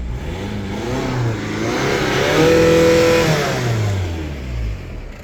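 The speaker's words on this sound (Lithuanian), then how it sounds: "Variklis užsiveda puikiai, dirba gražiai." A Škoda Superb engine runs close by, its steady hum rising in a smooth rev near the middle and then settling back to idle, with no voices.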